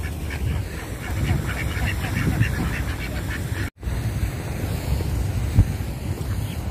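Ducks at a park pond in Aspire Park, Doha, Qatar, quacking repeatedly amid steady wind and open outdoor ambience, with a brief dropout midway.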